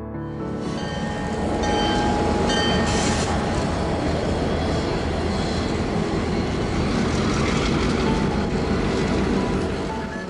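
A CN GP9RM diesel locomotive rolls past with its train in a rail yard, a loud, steady broadband roar of engine and wheels that swells in over the first two seconds and holds close and strong throughout.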